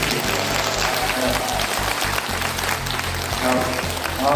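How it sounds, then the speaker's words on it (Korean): An audience at a job-training session in a Korean community center applauds after a lecture, steady dense clapping throughout, moderately loud and close, with a few voices mixed in. "우리 센터장님한테 큰 박수 한번 부탁드립니다"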